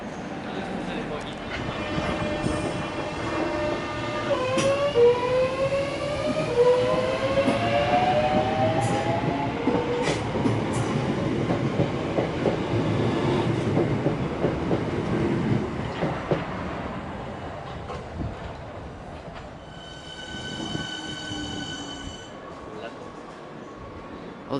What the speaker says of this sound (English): we are currently waiting for a DLR train to Lewisham